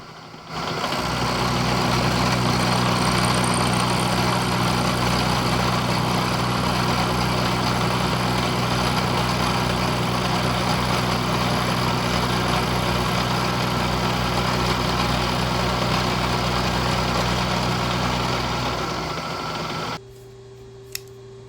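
A Kearney & Trecker 2HL milling machine runs steadily while trimming a bracket to length, a loud constant mechanical drone with a low hum that continues for about twenty seconds before cutting off abruptly.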